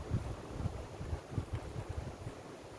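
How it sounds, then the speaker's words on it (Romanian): Wind gusts buffet a microphone outdoors beside a beehive, a steady low rumbling roar with soft irregular bursts, fairly faint and with no voices. "bate vântul și probabil nu se aude"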